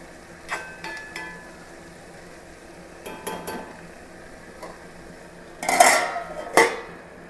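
A metal spoon scrapes and clinks against a pot while clam meat is stirred, a few light taps followed by a louder cluster of rattling knocks near the end in a quiet kitchen.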